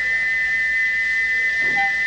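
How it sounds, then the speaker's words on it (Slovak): A steam locomotive whistle blows one loud, sustained high tone with no break, sounding alone against faint background hiss. "Prestaňte s tým, kričal, a zastavte ten piskot!"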